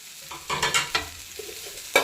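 Cumin seeds and cashews hit hot oil with sharp bursts of sizzling and stirring clatter, several quick crackles followed by a final loud spit, close and without talk.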